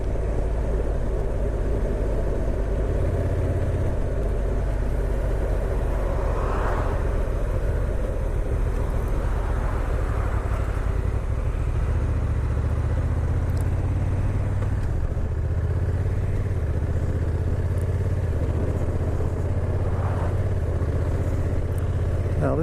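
A 2022 Honda NT 1100 DCT motorcycle engine drones steadily while riding, a constant low rumble mixed with wind noise and no talk.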